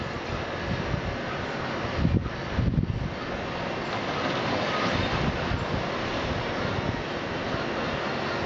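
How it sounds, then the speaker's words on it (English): Rough sea during Hurricane Irma: a constant roaring wash of heavy surf mixed with strong wind buffeting the microphone, with a couple of harder gusts early on and no one talking. "these waves are crazy"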